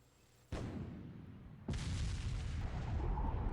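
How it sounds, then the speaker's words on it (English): A fierce explosion sound effect in an audio story: a sudden booming blast, followed by a second, larger detonation that leaves a sustained rumbling roar. "After the sound of a fierce explosion that almost deafened me"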